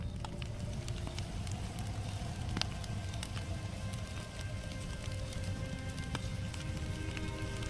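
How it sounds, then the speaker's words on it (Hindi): Steady rain patters continuously at an even, moderate level, with scattered louder drips and no voices. "आज तो बारिश हो रही है, इसको थमने दो,"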